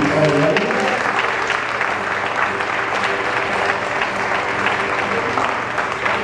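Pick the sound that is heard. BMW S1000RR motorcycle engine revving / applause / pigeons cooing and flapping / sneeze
applause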